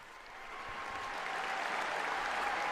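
Warm, sustained applause from a crowd of more than 11,000 young people in a large sports arena in Budapest, a dense continuous roar of clapping that swells slightly and holds steady, heard from a distance.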